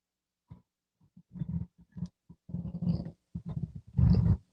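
A dog growls and grumbles in a string of short, low rumbling bursts that build toward a louder, rougher growl at the end, close by with brief silences between.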